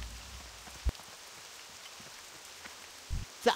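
Rainy ambience on the dark shore in World of Warcraft Classic, a soft continuous patter of raindrops on surfaces, faint and even, broken by a few brief low thumps.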